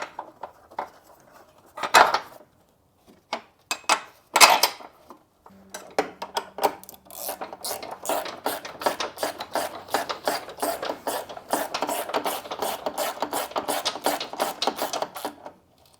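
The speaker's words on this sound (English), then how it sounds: "we're going to tighten these bolts in" Ratcheting socket wrench tightening bolts on a battery disconnect switch bracket in a 1991-2005 Acura NSX, a few metal clinks and handling noises first, then a long run of rapid, even ratchet clicks close up.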